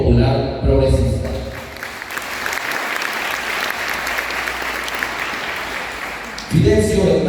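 A crowd at a community council gathering applauds a movement leader: a dense, sustained round of clapping lasting several seconds, with a voice speaking briefly before and after it.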